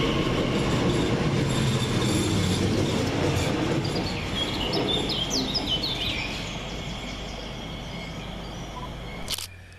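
A fast train runs through the slow lines at Gidea Park railway station, a loud, continuous rolling roar with squealing wheels that slowly fades as it draws away, ending with a short sharp click.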